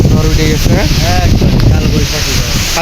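Storm wind on a river beats against the microphone with a heavy, continuous roar. A voice talks over it throughout.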